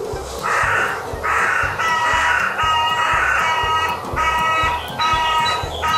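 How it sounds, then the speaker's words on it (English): Crows caw repeatedly in loud, harsh bursts with short pauses between calls, standing out over a steady background hiss with no talking. "got crows in the background"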